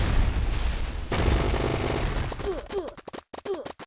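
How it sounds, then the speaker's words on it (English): A meteor spell effect in an Unreal Engine 5 wizard game: a loud rumbling roar and impact crash, followed by a series of sharp, crackling bursts and whooshing streaks that break off abruptly. "as well as a couple different spells for this class. such as the meteor."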